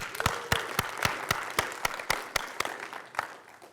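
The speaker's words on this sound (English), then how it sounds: "So let's give them a quick round of applause." Clapping from the audience at a UtahJS developer conference talk, sharp, close claps in a fairly regular rhythm, about four per second, that gradually soften and thin out toward the end.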